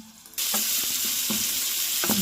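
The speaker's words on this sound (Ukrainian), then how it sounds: "обсмажуємо це все на олії до м'якості смажимо на середньому вогні" Loud, steady sizzling of onion and carrots frying in oil over medium heat, with a few soft stirring clunks from the pan, close up and without talk.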